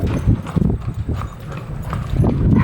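Horses' hooves clip-clopping in a quick uneven rhythm, close and fairly loud, with no talking.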